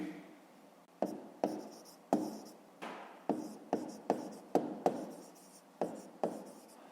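Pen writing out a fifth-grade math exercise solution on paper, heard as a close, steady scratching with regular sharp taps as each stroke begins, repeating about a dozen times in quick succession.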